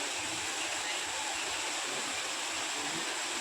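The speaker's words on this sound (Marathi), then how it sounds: "ते बघा आलेलं आहे सावडाव धबधबा." Savdav waterfall near Kankavli rushes in a continuous, dense roar of falling water, steady and fairly close throughout, with no distinct voices rising above it.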